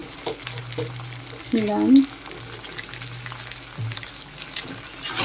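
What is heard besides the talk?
sautéing sole fish curry in a pan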